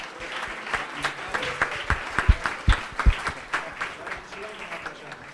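An audience at a television studio event claps in scattered, uneven applause, with individual hand claps standing out close by. The clapping stays moderate throughout.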